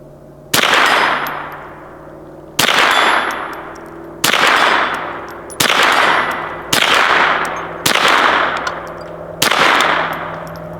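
Bullets strike a steel gong target on an outdoor range, seven loud clanging hits spaced a second or two apart, each ringing out and fading slowly before the next.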